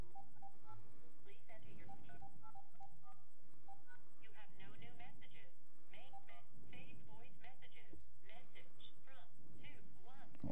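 Short telephone keypad tones beep in a quick sequence from a phone at a country fair, followed by continuous voices playing over a constant background.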